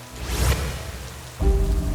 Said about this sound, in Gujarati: ત્યાં જ વરસાદ વધુ વરસ્યો અને જંગલમાં પૂર આવવાની શરૂઆત થઈ ગઈ.